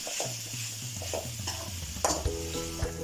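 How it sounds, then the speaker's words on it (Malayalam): Ripe tomatoes sautéed in a pan for a Christmas chicken dish, a steady close sizzle under repeated spoon scrapes and a few sharper clinks of utensil against the pan. "നന്നായിട്ടൊന്ന് പച്ചമണം മാറുന്ന വരെ വഴറ്റിയെടുക്കണം."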